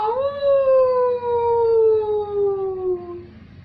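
A single long wolf howl rises briefly then slowly glides downward, clear and prominent, sustained for over three seconds before fading out.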